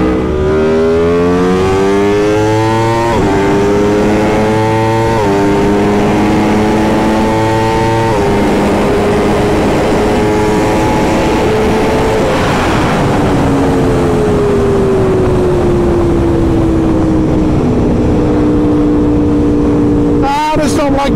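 An Aprilia RSV4 Factory Ultra Dark sport motorcycle accelerates hard at high speed, its engine note climbing in pitch through several quick gear changes, then holding a loud sustained whine mixed with strong wind roar.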